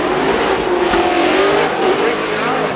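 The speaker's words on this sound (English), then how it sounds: "NOS Energy 370Z on Hankook tires. Initiates into that turn." A Nissan 370Z drift car on Hankook tires swings into a turn at a drift competition, its engine roaring loud and close as the tires squeal and howl in one continuous rising sweep.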